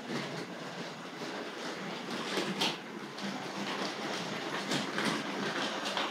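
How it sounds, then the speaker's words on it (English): A Tri-ang R.59 2-6-2 tank locomotive pulling R.212 bogie bolster wagons runs close by, a steady clickety-clack over the track joints with occasional sharper clicks, moderately loud and without talk. "Sounds lovely coming across all those track joints."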